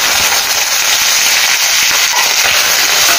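Curry leaves dropped into hot tempering oil for a tomato and broad bean curry, a loud continuous crackle and sizzle of spattering oil sustained throughout, close up with no talking.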